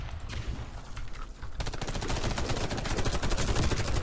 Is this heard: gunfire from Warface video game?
yes